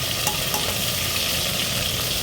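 Turmeric and salt sautéing in oil for mutton curry, a dense, steady sizzle close by with faint stirring, no voices.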